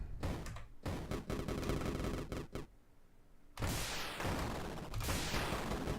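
Torpedo shots fired from a submarine in the Submuncher video game: a few loud, booming bursts with short rumbling gaps between them, ending in a longer roaring wash of sound.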